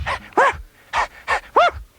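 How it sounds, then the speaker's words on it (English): A cartoon dog gives five short, loud barking yelps in quick succession, close and alone, with rising whiny tones that suggest an enthusiastic howl. "He let out a loving howl."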